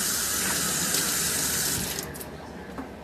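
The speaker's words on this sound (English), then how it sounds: "we're gonna pour the water out of that one" Water is poured out of a container while Air Jordan and LeBron sneakers are being cleaned, a steady gushing splash that runs for about two seconds and then tapers to a few trickling drips.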